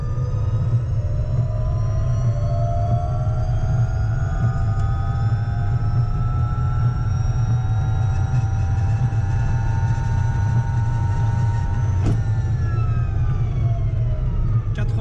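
A DIY electric conversion of an Aixam car, set to 300 A battery and 500 A motor current, gives off a steady motor whine whose tones climb gradually as it accelerates gently, continuous and close, with no talk.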